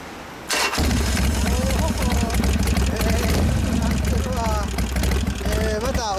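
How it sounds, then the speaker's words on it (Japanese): A 2011 Honda CB1100 Type I ABS Special Edition with a Dan-moto exhaust fires up after a brief quiet moment, then settles into a loud, steady idle with occasional blips, while people talk nearby. "エンジン聞かせてもらいます。"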